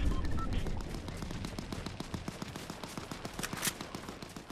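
Gunshots in the battle royale game Fortnite, a steady stream of rapid, evenly spaced shots at moderate loudness, with a louder crack near the end.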